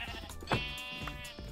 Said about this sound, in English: Oh, baby sheep.